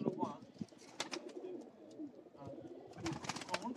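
Pigeons cooing at a breeder's loft, soft repeated coos with some bird activity running under background voices and handling noise.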